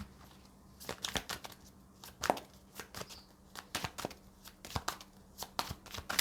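Tarot cards being gathered up and shuffled by hand, a close series of quick riffling and slapping bursts in an uneven rhythm, with no talk.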